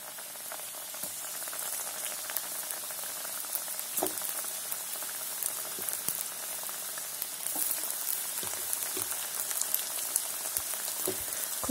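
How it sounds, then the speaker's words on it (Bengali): Thekua frying in melted ghee, a steady dense crackle and sizzle with scattered louder pops, heard close and alone. "খুব সুন্দর লাল করে ভেজে নেব"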